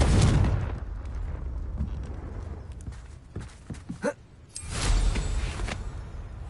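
Confringo blasting spells explode in Hogwarts Legacy as loud, broad roaring bursts, one at the start and another a few seconds later, with softer scattered thumps and clatter in the lull between.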